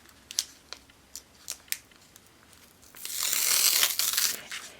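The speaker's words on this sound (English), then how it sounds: "the first step that you want to do is you want to peel back the liner." Backing liner being peeled off a card-front-size sheet of sticky dots transfer adhesive, a few sharp crisp clicks followed by a longer close rasping peel, quiet and alone.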